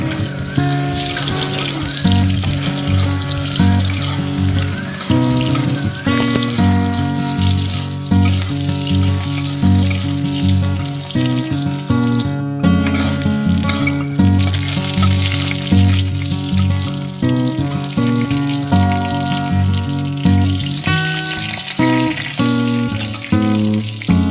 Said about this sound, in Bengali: ওই কড়াইয়ের মধ্যে আরও কিছুটা তেল দিয়ে পটল ভেজে নিতে হবে।